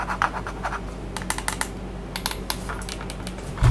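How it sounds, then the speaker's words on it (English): Keys and mouse buttons on a Lenovo N5901 mini wireless keyboard with a built-in trackball clicking close up, with irregular bursts of sharp taps in quick succession, some clustered and some spaced apart, over a quiet room. "The sound you get from the left click is different from one you get on the right click, and also different from the sound of the keys."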